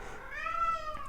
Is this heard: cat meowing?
yes